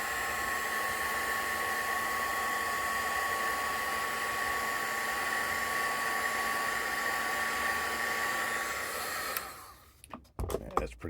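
Hair dryer blowing steadily on freshly painted wood of a bed frame, a continuous loud whine and rush of air that cuts off near the end, followed by a few light knocks.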